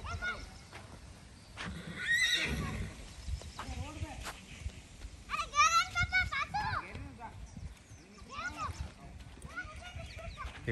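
Horses at a village mating session in Rajasthan, with a mare whinnying loudly several times and faint hoof clip-clop underneath, while children and adults chatter and call out nearby.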